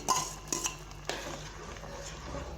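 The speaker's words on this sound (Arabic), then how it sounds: "اول ما غلت بصوا هننزل عليها ايه، بكوبايه رز" A cup of rice goes into a pot of boiling spinach, giving a few faint metallic clinks and rattles of the pot and utensil close by, followed by a low, quiet simmer.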